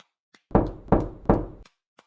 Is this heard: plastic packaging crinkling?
no